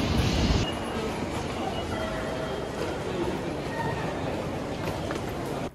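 A commuter train ride toward Vantelin Dome in Nagoya: a steady rumbling carriage drone with wheel and rail noise, continuous and close, after a brief louder burst at the start.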